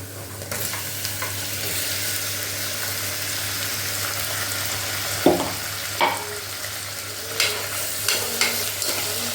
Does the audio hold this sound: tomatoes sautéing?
yes